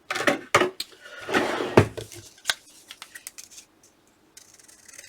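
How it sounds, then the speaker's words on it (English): Scissors snip through paper for a board project in a quick series of crisp cuts, busiest early on, then a few lighter clicks and snips close by. "Let's cut it out."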